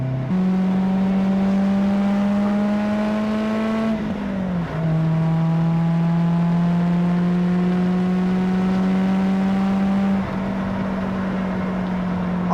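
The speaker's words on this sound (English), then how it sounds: "Car sounds really good. Exhaust is nice." A Mazda NC Miata on a racetrack during a track day, its engine and exhaust droning at high revs: a sustained, buzzy tone that climbs steadily, dips briefly around a gear change, then climbs again, loud and close throughout.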